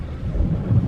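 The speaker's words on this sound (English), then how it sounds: "so that's what happened to the beach. We got rained out." Low rumble of thunder with rain during a storm at the beach, a deep rolling boom that is loud and brief.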